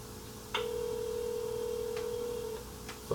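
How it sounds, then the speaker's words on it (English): Ringback tone of an outgoing telephone call, one long steady ring lasting about two seconds, clear and fairly loud, followed by a short pause and the start of another ring. "Phone's ringing, guys."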